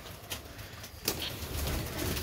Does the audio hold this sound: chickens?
no